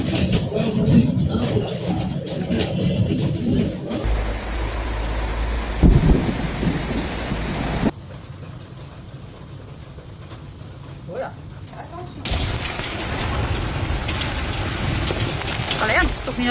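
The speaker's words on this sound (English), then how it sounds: "heavy rain and frequent lightning were observed during nighttime storms" Thunderstorm in Belgium with heavy rain: loud, steady downpour across the whole stretch, interrupted by deep rumbling thunder bursts near the start and again around the middle, with abrupt shifts in intensity between segments.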